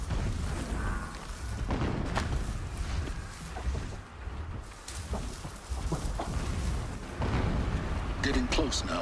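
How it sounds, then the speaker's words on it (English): Distant explosions rumble in Horizon Zero Dawn, low muffled booms rolling under a broad noisy wash, with a voice talking over them. "Explosions in the distance."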